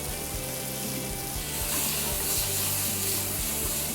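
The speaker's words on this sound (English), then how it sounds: "we're going to sear these up" Mahi-mahi cheeks coated in sesame seeds sear in a hot pan, giving a loud, dense, continuous sizzle that swells slightly partway through, with no speech.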